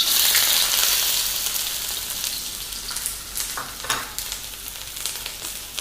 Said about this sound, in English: The oil is hot. I'm adding the sliced onions.